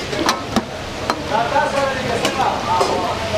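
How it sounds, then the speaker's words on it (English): Lamb karahi sizzles in its own fat at a Peshawar street food stall, a steady crackling fry with sharp clinks of utensils and people talking over it. "it just sizzles in its own fat"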